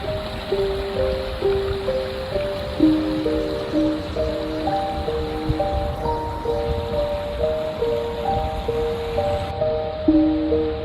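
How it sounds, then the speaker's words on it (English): Padden Creek flowing beside the Interurban Trail in Bellingham gives a steady rushing wash of water that runs throughout, with a gentle melodic music line layered on top. "Padden Creek weaves its way beside and under the trail on its way to Bellingham Bay."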